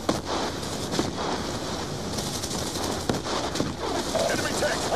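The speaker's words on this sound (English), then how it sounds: "Vehicle Alpha is receiving enemy fire" Enemy gunfire in the war video game Black Ops 2 crackles in a dense, continuous stream, with bursts spiking over steady battle noise while radio-style voices talk over it.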